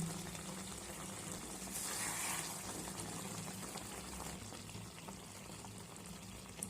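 Sugar syrup boils for raw mango candy: a soft, continuous bubbling hiss, fairly faint and even throughout, with a brief swell in the middle.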